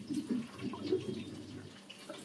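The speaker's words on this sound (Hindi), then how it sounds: "फिर से पानी डाल रहा है जमीन में" A child pours water onto the floor indoors, producing soft, close splashing and trickling in uneven bursts that taper off toward the end.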